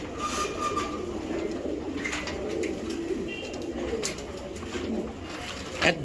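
Racing pigeons coo softly and steadily, including a young blue grizzle hen from a limited club loft, with a continuous cooing murmur over light background noise and no talk.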